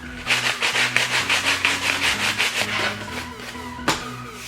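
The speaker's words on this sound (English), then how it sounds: "So we can just take our sandpaper or sanding block." Sandpaper or a sanding block rubs the rough edges of a custom illuminated door sill for an Acura TSX in quick, rhythmic back-and-forth strokes, close and moderately loud, ending with a sharp tap.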